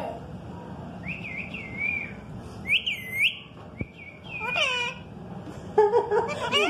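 A pet parrot whistles in several rising and falling tuneful phrases, close and clear over a low background hum, with a brief knock partway through.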